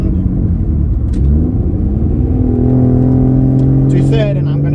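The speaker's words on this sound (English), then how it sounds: "because I have the launch control button below the clutch pedal, it should be able to flat foot shift." Mercedes W203 with a turbocharged M104 engine revs hard and drones through a flat-foot shift, a loud continuous in-car rumble with rising engine tones.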